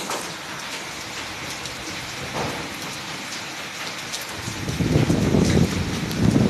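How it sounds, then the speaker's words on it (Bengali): Heavy rain pours down steadily in a dense hiss during a storm with strong wind, growing louder and rougher toward the end. "বৃষ্টি তো পড়তেই আছে কালকের থেকে থামার নাম নেই"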